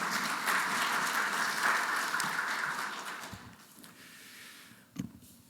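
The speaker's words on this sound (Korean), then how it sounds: "앞으로 모시지는 못했지만 축하의 박수 한번 부탁드립니다." An audience at an opening ceremony of an academic conference claps for award-winning professors, a dense roomful of applause that swells, then thins and fades out, ending with a single sharp knock.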